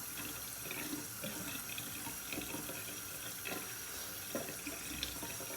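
A bathroom sink tap runs steadily while a face is rinsed, a continuous soft stream of water with small splashing variations and no talking.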